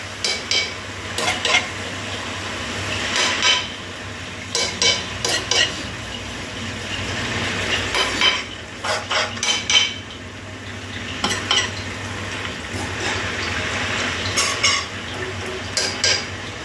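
Chinese kale and minced pork stir-fry in a pan, with a continuous low sizzle under frequent clattering scrapes and knocks of a utensil against the metal, coming in quick bursts.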